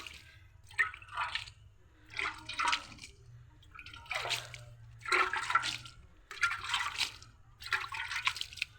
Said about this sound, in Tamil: இப்போது தண்ணி தெளித்து விடணும் லைட்டாக